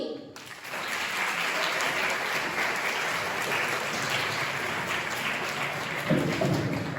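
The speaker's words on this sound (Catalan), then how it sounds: "Rebem amb un fort aplaudiment al grup de teatre" Loud, sustained applause from an audience welcoming a theatre group, the Dandy troupe, at an end-of-year school show, a dense steady roar of many hands that runs the whole length and swells slightly near the end.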